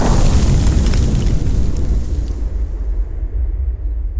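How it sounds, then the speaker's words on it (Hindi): A loud bomb blast in a film scene, a huge booming explosion that fills the sound at once, then rolls into a long rumbling decay that fades over several seconds. "अरे अचानक से किस देवता ने बम फोड़ दिया?"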